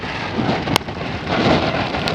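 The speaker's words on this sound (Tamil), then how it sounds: "இந்த மழை வந்து அதிக அளவு மழை பெய்து கொண்டே இருக்கு" Heavy rain driven by wind during a storm in Sri Lanka, a dense, steady, close hiss of downpour with gusty swells and a single sharp tap partway through.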